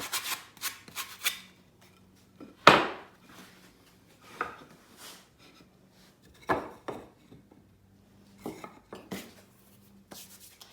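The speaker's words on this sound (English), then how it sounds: "I like to use a sanding block or just a little piece of sandpaper in my hand." Hand sanding the rough end edges of a wooden sign frame with a sanding block or small piece of sandpaper, heard as short separate scratchy rubbing strokes in irregular bursts, close and clear, with quiet gaps between.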